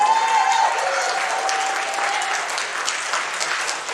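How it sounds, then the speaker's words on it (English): A convention audience applauds steadily throughout, broad sustained clapping filling the hall with a faint tone running beneath in the first half. "Give yourselves a round of applause."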